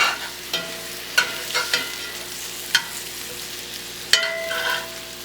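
Homemade meatballs sizzling in a frying pan, a soft steady fry broken by several sharp scrapes and clacks as they are stirred and turned, with no one talking.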